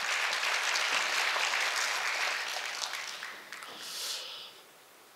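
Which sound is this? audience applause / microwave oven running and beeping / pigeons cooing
audience applause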